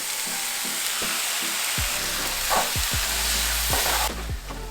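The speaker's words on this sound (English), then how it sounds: "you just wanna add the sauce to the frying pan" Steady loud sizzling of sauce added to a hot frying pan with tofu, with occasional stirring scrapes and pops, continuous throughout.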